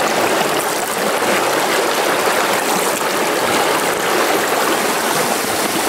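Cold alpine creek of the Snowy River near Thredbo, Australia, flowing with a loud, steady broadband rush of water, close by and unbroken, no voices.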